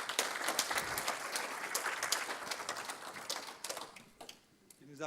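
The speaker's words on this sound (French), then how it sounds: "on va encore applaudir Jacques Livage" Audience applauding after a science lecture on colour, from cave paintings to flat screens, at the Visiatome: steady dense clapping that thins out toward the end, with some talk over it.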